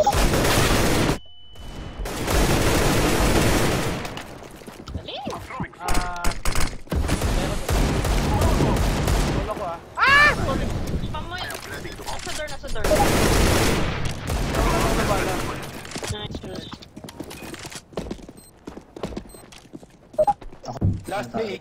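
AK rifle fire in Counter-Strike: Global Offensive, loud bursts of rapid shots between quieter stretches, with other in-game effects and players talking over the action.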